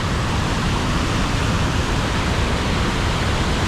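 Vickery Falls roaring at close range, a dense, steady wash of falling water that fills the whole clip without a break and without any talk.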